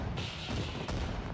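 Fireworks burst in Indiana Jones and the Staff of Kings as a muffled crackling rumble, with two sharper pops standing out against a dense, steady wash of explosions.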